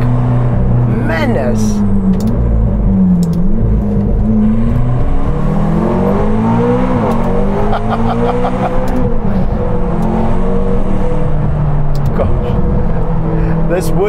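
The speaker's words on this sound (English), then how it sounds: "These turbos spooling there in the back." Heard from inside the cabin, the turbocharged engine of a 707 hp McLaren grand tourer rises and falls in pitch as its turbos spool while driving, a loud, steady drone under a man's speech.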